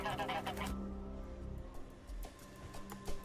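Geese honking repeatedly in a quick irregular series of nasal calls, fairly faint, over a low background rumble.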